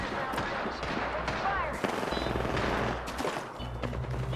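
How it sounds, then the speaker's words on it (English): Rapid bursts of gunfire from Apex Legends matches crackle in a dense, continuous barrage, with several shots and automatic volleys overlapping under busy game noise and voice chat. "Are you shooting someone right now?"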